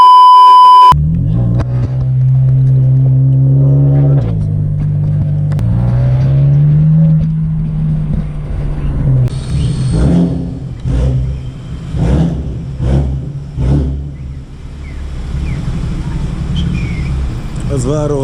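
A car driving along a road, its engine humming steadily under intermittent talk that is mixed with music-like tonal sounds, carrying on throughout.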